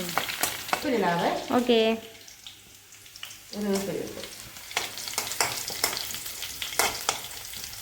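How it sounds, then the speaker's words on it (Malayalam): Mushroom mixture sautéing in a pan, a dry sizzle with scraping and stirring strokes, heard close alongside someone speaking. "ഇതിൻ്റെ പച്ചമണം മാറുന്ന വരെ നമുക്കൊന്ന് വഴറ്റാം"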